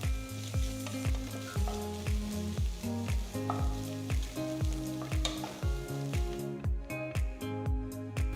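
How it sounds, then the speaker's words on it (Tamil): Crushed garlic and ginger sautéing in a pan, giving a steady close sizzle with rhythmic stirring scrapes throughout. "கொஞ்சம் வதக்குங்க."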